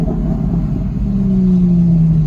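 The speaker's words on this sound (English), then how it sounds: "driving Lambos on PCH" Lamborghini supercars, including an Aventador SV, Huracáns and a Gallardo, cruise along the Pacific Coast Highway near Santa Monica with a steady, close engine rumble whose droning tone slowly slides lower, with no talking.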